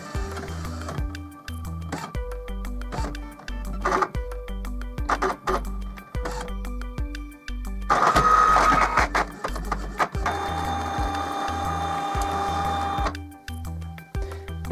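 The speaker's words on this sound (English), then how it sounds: "Now, during all that clunking and whirring," An Epson Stylus DX4450 inkjet printer runs its self test, clunking in repeated mechanical knocks and thuds, then whirring loudly as the carriage and motors run for several seconds before stopping.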